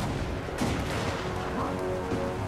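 Small orc cannons fire in the video game Total War: Warhammer, sending out a dense, overlapping stream of booming shots and impacts amid battle noise.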